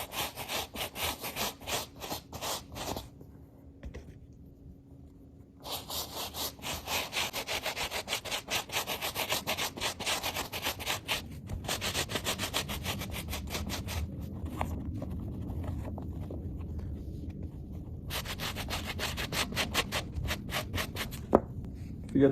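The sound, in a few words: scrubbing a shoe with a Reshoevn8r brush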